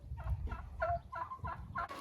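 Araucana hens in a chicken coop on a snowy day give a run of short, close clucking calls, five or six rhythmic bursts over a low background rumble, with no talking.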